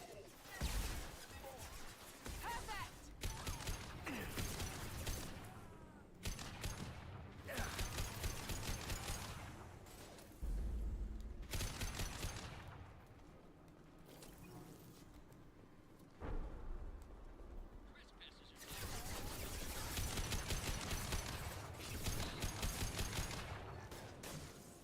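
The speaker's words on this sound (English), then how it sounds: "Frickin' rockets." Rocket troopers fire rockets in the Mass Effect 2 video game, heard as loud repeated bursts of weapon fire and blasts in clusters across the stretch, with quieter gaps between and faint talk at times.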